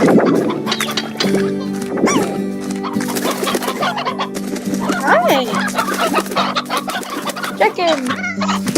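Chickens cluck and squawk repeatedly in the Slime Rancher video game, busy overlapping calls over steady game music, with a player talking at times.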